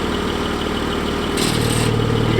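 A Porsche GT4 engine idles with a Cargraphic exhaust and its valves open, a steady low rumbling burble that grows slightly louder and deeper partway through, close by with no talking.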